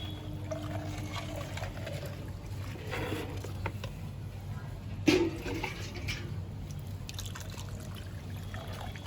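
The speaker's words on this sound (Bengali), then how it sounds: "উপরে খালি অংশটা আমি পুরোটাই জল দিয়ে ভর্তি করে দেব" Water is poured into a flower pot holding a guava tree, filling the empty space at the top. It makes a soft, continuous trickle and splash close by, with a brief louder splash partway through and no talking.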